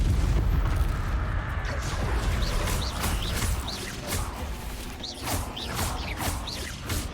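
Incendio fire spell cast in the video game Hogwarts Legacy, a loud roaring burst of flame with whooshing and crackling bursts that rise and fall over several seconds amid combat sounds.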